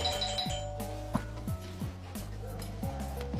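A doorbell rings in repeated two-tone ding-dong chimes, several strikes in quick succession, clear and moderately loud with a faint voice underneath.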